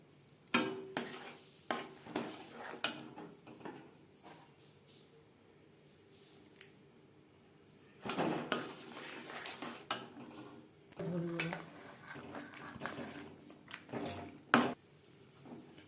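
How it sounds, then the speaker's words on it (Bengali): Rice flour is stirred into boiling water in a pan, heard as scattered scraping and clinking of a utensil against the pan in irregular bursts separated by quiet stretches. "এভাবে চালের গুঁড়ো মিক্সড করতে থাকবো আর নাড়তে থাকবো।"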